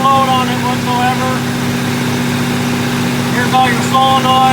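A rebuilt generator engine idles with no load, a steady loud hum with constant low tonal drone and faint higher whines throughout.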